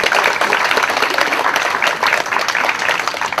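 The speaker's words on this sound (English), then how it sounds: "Give Sherry a big round of applause" A small audience at an Emotional Freedom Technique demonstration for snake phobia claps in a dense, steady round of applause lasting a few seconds, close and fairly loud with no talking over it.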